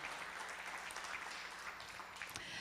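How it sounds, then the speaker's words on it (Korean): Guests at a regional women's peace event in Jeonbuk applaud, a dense, even patter of clapping at a distance, fairly faint and continuous. "큰 박수 부탁드립니다."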